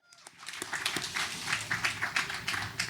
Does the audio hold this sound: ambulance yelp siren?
no